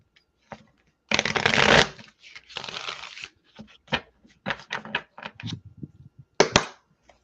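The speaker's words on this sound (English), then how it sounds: "Shuffle one more time for good measure." Tarot cards being shuffled in several quick riffling bursts, crisp and close, with brief pauses and soft taps between them and no talking.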